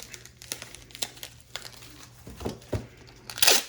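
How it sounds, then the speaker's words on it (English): Packing tape pulled and wrapped around knife shipping packaging, with crinkly bunching of the wrap, as a series of short close rustles and tearing bursts, louder near the end. "Tape it. Tape it. I'm gonna bunch the end up."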